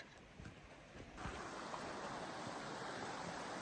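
A river flowing high on a mountain pass, a steady broadband rush of water that swells after a second into a constant close roar, no speech.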